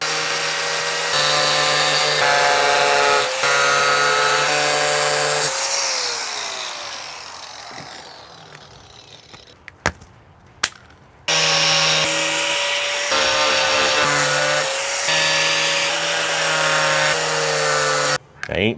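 A power tool cuts out wood pieces for a homemade 10 meter dipole antenna, with loud sustained whining runs, a slowing wind-down, brief pauses and sharp clicks, then another long steady cut.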